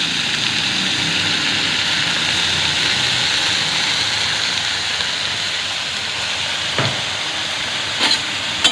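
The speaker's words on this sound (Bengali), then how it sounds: "তো নুন আর হলুদ দিয়ে আর কি এটা ভালো করে আর কি ভাজা করে নেবো" Broken pieces of potato fry in hot oil with salt and turmeric, giving a steady loud sizzle throughout. Near the end a couple of brief utensil clinks cut through.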